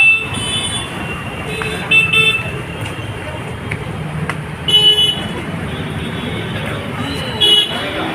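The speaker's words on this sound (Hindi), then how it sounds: "बहुत गाड़ी बहुत ज़्यादा जाम हो रही है।" Heavy traffic jam in a busy street outside a building, with several short car horn toots standing out over a constant roar of idling and crawling vehicles, while people talk nearby.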